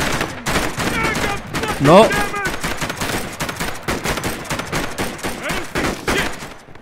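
Dense gunfire from many shooters in a multiplayer shooter, Operation: Harsh Doorstop, with rapid overlapping bursts and shots throughout. A voice talks briefly over the shooting.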